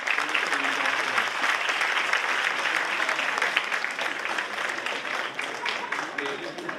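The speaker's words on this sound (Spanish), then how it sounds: "les pido un caluroso aplauso" An audience at a university forum on inflation and small businesses gives a warm round of applause, steady dense clapping from a crowd indoors, lasting throughout.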